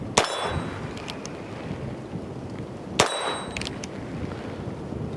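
Two revolver bullets strike a steel spinner target about three seconds apart, each a sharp metallic clang with a ringing ding, heard outdoors against wind noise with no talking.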